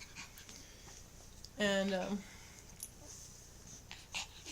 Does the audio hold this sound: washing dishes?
no